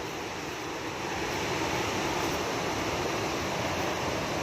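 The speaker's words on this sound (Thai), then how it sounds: "ยินเสียงบ่ น้ำตกตาดสดี" A steady, dense roar of falling water from Tad Sadi waterfall near Xepon, Laos, fills the air, constant and broadband with no breaks or voices.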